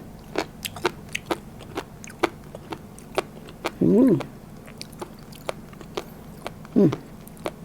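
Crunchy cooked Alaskan king crab roe being chewed close to the microphone, with a steady series of short crisp bites and a couple of brief hums of enjoyment in between.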